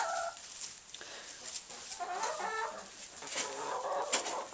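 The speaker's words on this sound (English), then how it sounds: "The hens are all interested as to what's going on" Backyard hens cluck and murmur softly at close range, a busy low chatter of short calls from several birds with no voices over them.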